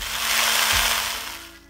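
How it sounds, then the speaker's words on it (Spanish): Anise, fennel and cardamom seeds are crushed in a short burst of grinding, a rough whirring rasp that swells and fades over under two seconds, with no talk. "voy a triturar el anís y el hinojo y el cardamomo"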